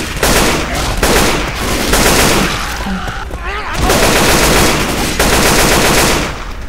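Loud, continuous automatic gunfire in a video game comes in rapid sustained bursts with brief pauses, with a voice faintly under the shots.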